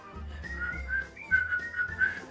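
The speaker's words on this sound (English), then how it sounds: "now they're whistling the song while going to work" A bright whistled melody carries along in short phrases with a few sustained notes, accompanied by a soft, steady low rhythmic backing.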